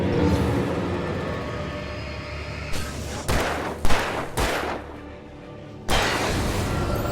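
Gunfire in the video game Alan Wake Remastered: several loud, sharp shots burst out in the second half, separated by short pauses over a steady low game ambience.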